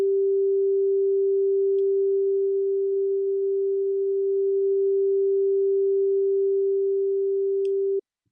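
A steady pure electronic tone, panned from center to right and then right to left in music software, holds one low pitch at an even level for about eight seconds before cutting off abruptly.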